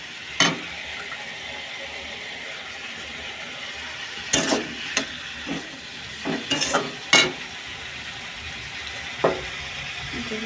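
Fish frying in a pan for a spicy fish curry cooked alongside sour dal with hog plum, with a steady low sizzle broken by several sharp scraping stirs of a spatula, clustered near the middle and close by.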